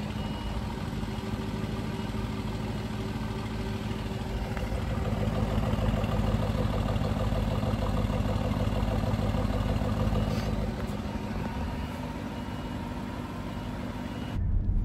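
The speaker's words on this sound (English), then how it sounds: "I'll go around to the back of the exhaust, just so you can hear the engine note" An Aston Martin V8 Vantage petrol engine idles, heard from behind at the exhaust, a steady low burbling rumble that swells slightly mid-way and then settles again.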